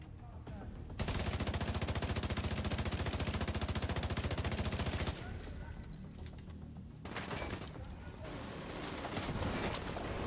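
Automated turret gunfire in The Division 2, a dense rapid burst lasting several seconds, loud and close, followed by scattered shots and game noise with voices faintly underneath.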